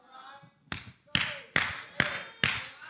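A church congregation claps during a sermon, with five loud, evenly spaced claps ringing in a reverberant hall after a brief murmur.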